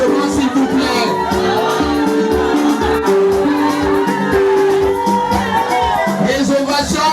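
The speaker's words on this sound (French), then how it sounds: "Nous accueillons Papa Matsika avec des ovations et des applaudissements, s'il vous plaît" A crowd at a funeral in Brazzaville cheers and shouts in ovation, a dense continuous roar of many voices with whoops and singing-like tones throughout.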